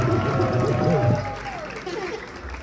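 A crowd at a street rap battle in Brazil roars and shouts in a loud, dense burst that eases slightly after the first second, with a prominent voice calling over the noise.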